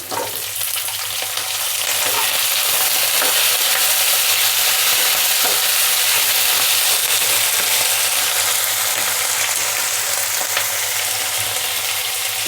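Thinly cut potato pieces frying with reddened onions in a pan for a sprouted black-eyed pea and potato curry, a loud, dense, steady sizzle and crackle with occasional stirring, no talking.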